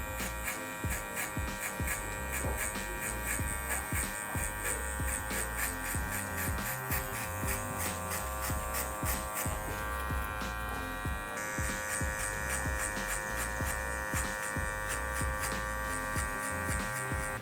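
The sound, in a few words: hair clippers with 1 guard, lever open, cutting hair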